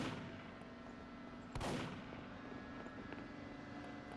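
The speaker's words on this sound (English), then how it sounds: "Do you hear the gunshot?" A single sharp gunshot cracks once at mid-distance in a Shrek-themed backrooms horror game, standing out briefly over a low, constant ambient hum.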